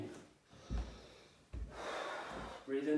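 Deep, audible inhalations and exhalations during a breath-control exercise for tuba playing, with sharp intake bursts followed by longer sustained breaths, close and fairly quiet.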